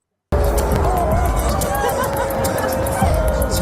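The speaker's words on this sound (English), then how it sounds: "They're booing because they're announcing the other team." A packed stadium crowd of about 80,000 people boos loudly as the opposing team is announced, a dense sustained roar of jeers and babble that starts abruptly and holds steady.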